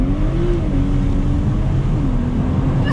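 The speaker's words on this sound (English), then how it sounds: "Launch control. Ready?" A BMW M240i on launch control pulls hard with a loud, continuous engine roar, the pitch rising through the revs and dipping at a gear change before climbing again, heard from inside the car.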